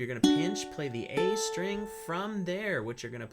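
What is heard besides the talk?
No distinct noise like a dog, phone or traffic.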